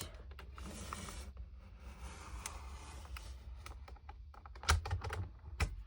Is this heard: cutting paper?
yes